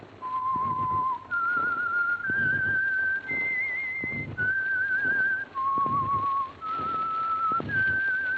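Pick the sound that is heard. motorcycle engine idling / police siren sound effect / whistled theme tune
whistled theme tune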